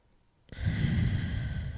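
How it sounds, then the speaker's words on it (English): After a brief quiet, a single long, deep exhale is heard up close during a power yoga session, a soft, breathy sigh that carries steadily to the end. "One more breath here."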